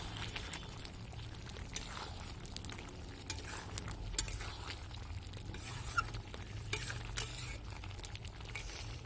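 Curry with garam masala is stirred in a pan, a faint low sizzle with soft, irregular scraping and patter strokes and no talk.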